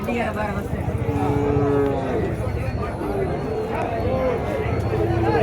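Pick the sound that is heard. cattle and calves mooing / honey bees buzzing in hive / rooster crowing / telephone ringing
cattle and calves mooing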